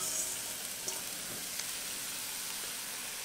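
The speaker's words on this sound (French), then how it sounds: "Après avoir fait revenir nos oignons une dernière fois, on y rajoute le restant de nos épinards" Onions and spinach frying in a pan give a steady, soft sizzle with faint crackles, close and continuous throughout, with no talk.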